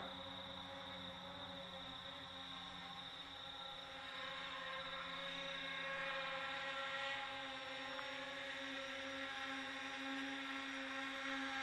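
Arducopter multicopter drone descending slowly to land, its propellers giving a steady, continuous droning whir with layered tonal hum that holds at a fairly even loudness throughout, with no talking.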